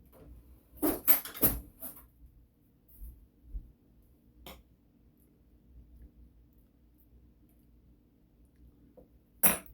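Metal spoons and cutlery clink and rattle close by as a clean spoon is fetched, a quick cluster of sharp jingles followed by a few scattered taps and a final clink after a quiet stretch.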